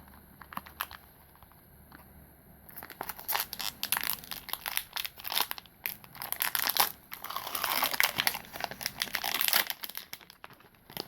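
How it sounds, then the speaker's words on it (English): Crinkling and tearing of a foil Magic: The Gathering Throne of Eldraine collector booster wrapper, starting quietly then building into dense close crackles and rips, with busy bursts toward the middle and end. "Let's open the first pack and see how we do."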